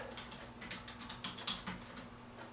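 Keystrokes on a computer keyboard during a word search, a quick irregular run of light clicks close by with a faint steady hum underneath, no talking.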